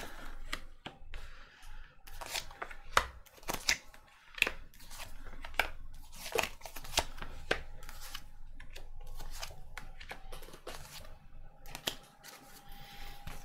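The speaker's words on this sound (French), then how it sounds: "je tire les cartes et on va regarder un petit peu ensuite" Tarot cards being shuffled and drawn, heard as a run of crisp papery snaps and flicks coming in quick irregular bursts, close and fairly quiet, with no talking.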